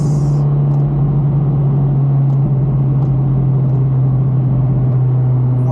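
A Honda CRX with a 1.6-litre D16A9 engine drives along. Its engine and exhaust produce a steady, loud droning hum throughout, with no distinct pops standing out.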